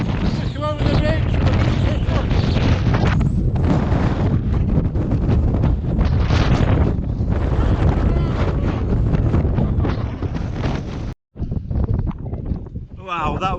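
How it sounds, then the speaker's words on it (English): Strong wind on a mountain ridge buffets the microphone in loud, continuous gusts, roaring and rumbling, with a brief dropout near the end before the blustering resumes. "wow, that was windy up there."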